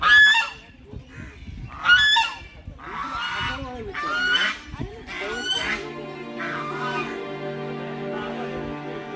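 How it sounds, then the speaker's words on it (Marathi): Ducks near Ramdara temple honk and squawk noisily in a series of loud, ragged calls over several seconds, close by, then fade into a quieter, lingering murmur of bird noise. "इथल्या पक्ष्यांची तरासणारी या बदकांनी तर गोंधळच घातला होता"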